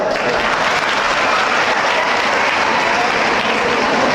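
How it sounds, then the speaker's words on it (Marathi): A large audience claps loudly and steadily throughout, a dense, continuous wash of applause at a public speech with no breaks. "त्याच्यासाठी जोरदार टाळ्या वाजवा"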